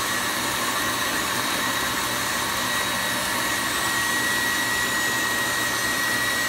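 An electric mixer whirs steadily while salt is blended into homemade butter, a loud, continuous motor drone with an even buzzing tone and no pauses or voices.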